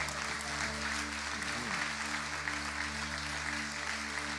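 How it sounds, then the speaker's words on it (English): Church congregation clapping hands to the Lord at the end of a prayer, a steady wash of many hands clapping over a low hum, moderate in level and continuous, with faint voices mixed in. "Clap your hands to the Lord."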